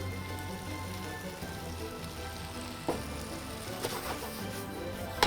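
Tofu sautéing in a pan for a Thai noodle dish, turned with tongs: a steady, moderately loud sizzle with a few soft clicks and knocks of the tongs partway through, no talking.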